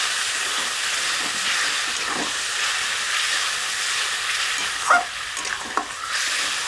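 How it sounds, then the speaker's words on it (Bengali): Spice paste seasoned with salt and turmeric sizzles hard in a pan after a splash of water, for a cauliflower curry: a steady, loud hiss with a few brief pops near the end. "জল দিয়ে মশলাটা কষে নিলাম"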